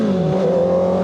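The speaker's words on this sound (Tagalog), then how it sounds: "Yung mga biker nag-request mo bomba." A sport motorcycle engine is revved loud and close on a group ride, a sustained, steady roar with little change in pitch across the short burst.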